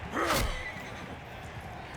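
A horse neighs in the medieval battle game Mount & Blade II: Bannerlord, one short rising whinny near the start that trails off over quiet game ambience.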